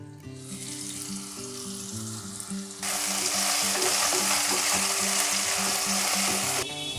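Potatoes with salt and turmeric fry in oil in a covered pan, a steady sizzle that suddenly grows louder and brighter partway through. A low tonal hum runs underneath the whole time.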